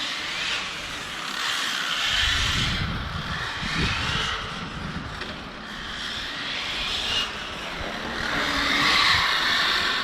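A Serpent Viper 989E radio-controlled car with a HobbyWing Max8 G2 ESC drifting, giving a steady whirring motor whine and tire scrub that swells and eases over about ten seconds, with no talking.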